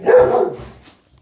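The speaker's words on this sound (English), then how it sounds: "the dog just decided it wanted to have a dicky fit" A dog gives one loud, close bark that trails off into a short rough tail, with nothing else around it.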